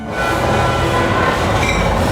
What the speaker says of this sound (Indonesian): Tapi itu depan udah ada kereta api, Bapak.